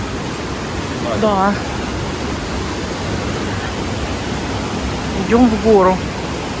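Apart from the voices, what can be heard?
icy mountain river rushing in the Pyrenees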